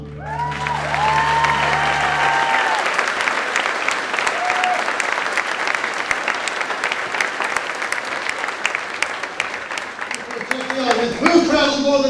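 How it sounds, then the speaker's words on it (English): Audience at a fall general assembly breaks into broad sustained applause, many hands clapping steadily and loudly with scattered cheers, after a brief spoken voice at the start and with voices rising near the end. "A round of applause."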